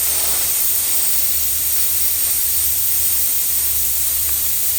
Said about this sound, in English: come in with black in the airbrush and do some shading